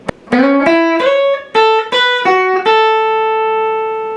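A guitar plays a short melodic lick, about seven plucked notes with slides between some, ending on a note left to ring out.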